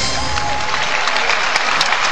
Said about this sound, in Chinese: 全场响起了掌声。